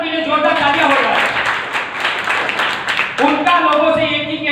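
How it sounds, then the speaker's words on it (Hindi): Loud audience applause at a motivational speaking event, a broad wash of clapping that swells for a few seconds alongside a voice and tonal background, then settles back under continued speech. "एक बार उनके लिए जोरदार तालियां हो जाए।"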